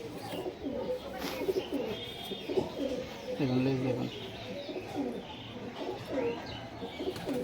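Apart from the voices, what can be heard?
Punjabi Malbai pigeons cooing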